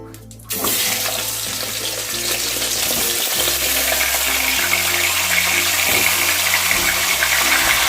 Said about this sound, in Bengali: এবার আমি মাছের মাথাগুলোকে ভেজে নেবো